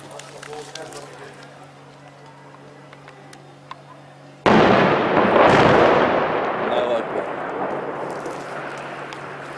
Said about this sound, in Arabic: قصف عنيف ومستمر على المدينة.